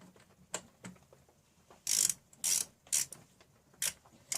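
Ratchet wrench with a 10mm socket clicking as it turns self-tapping screws on a Honda HRN216 lawn mower, with several short bursts of quick ratcheting clicks up close between quieter pauses.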